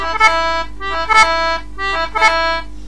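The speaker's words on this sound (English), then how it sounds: "This is like a double grace note that I'm going to use before the E" A melody note ornamented with a double grace note before an E, followed by two A's played short then long, from the tune The Fermoy Lasses, a clear solo instrument repeated in phrases with no talking.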